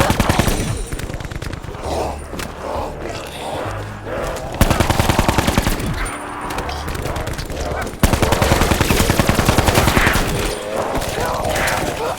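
Rapid automatic gunfire in Black Ops 4 Zombies, loud and sustained bursts of machine-gun fire with heavy reports throughout, a game voice faintly under the shooting.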